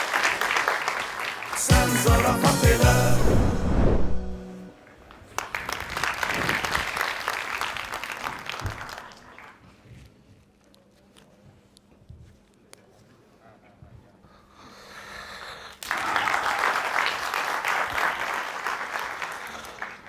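An audience at an Azerbaijani comedy sketch show bursts into loud applause, then claps again in further waves, with quieter gaps between the bursts and brief talk in between.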